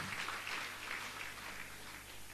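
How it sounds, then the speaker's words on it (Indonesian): Steady applause from a church congregation during a Sunday service, a dense continuous patter of clapping sustained at an even level throughout, with no voices standing out. "Berikan tepuk tangan."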